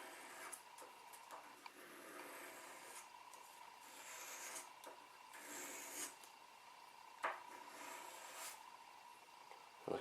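A small metal jewelry piece is rubbed with 600 grit sandpaper in quiet, close back-and-forth rasping strokes, soft and continuous with a few sharper scrapes.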